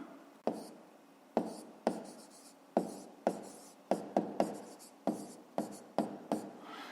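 Handwriting with a pen on paper while solving a fifth-grade math problem, a steady run of close, quiet scratching strokes, each starting with a light tap, no talk.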